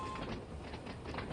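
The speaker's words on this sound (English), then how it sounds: "You are driving a train, but it still has that mainline element." Train engine running on the Isle of Wight in Train Sim World 2: a steady, full rumble of wheels and motor with a faint rhythmic clatter, continuous and close throughout.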